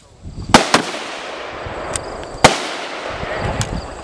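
Shots from a short-barrel M4 rifle ring out as several loud, sharp cracks at irregular intervals, a close pair first and then single reports, each followed by a brief echoing tail.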